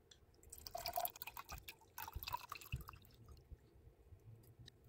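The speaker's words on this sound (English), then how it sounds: "Before I filter this, it makes sense to decant the liquid on top." Liquid decanted off ammonium bisulfate crystals, pouring in faint irregular trickles and drips, close and quiet with brief splashy bursts.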